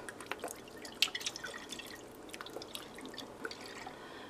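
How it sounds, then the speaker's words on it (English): Worcestershire sauce poured into a pot roast, a faint series of small irregular drips and splashes, a little louder near the start and tapering off, quiet and close with no talking. "I'm also going to add a generous amount of Worcestershire sauce as well."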